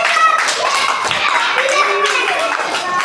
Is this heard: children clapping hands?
yes